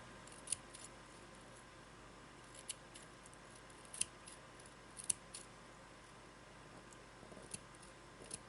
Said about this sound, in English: I will simply take the scissors and cut the cord end this way.